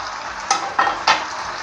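Chopped red and green bell peppers stir-fry in a pan under a steady sizzle, with three sharp scraping stirs a few tenths of a second apart, close and alone.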